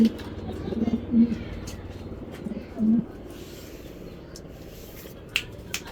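Racing pigeons coo in low, soft bursts with a few sharp clicks and wing flutters, heard close under a quiet background.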